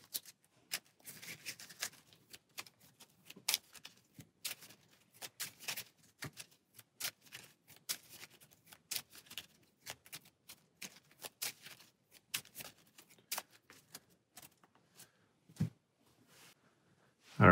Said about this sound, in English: So then we'll shuffle these back into our deck.